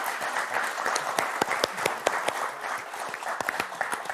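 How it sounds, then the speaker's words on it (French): A studio audience applauds on the French game show Motus: dense, steady clapping from many hands with sharp individual claps poking through, loud and sustained throughout, with no speech on top. "Applaudissements pour Nathalie et Guillaume, s'il vous plaît."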